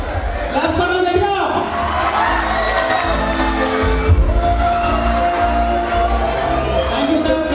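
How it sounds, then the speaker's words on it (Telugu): An audience at a youth festival claps and cheers, a loud, continuous crowd roar with shouts and whoops rising and falling over several seconds, while a voice speaks over the noise. "క్లాప్స్ కొట్టాలి గట్టిగా."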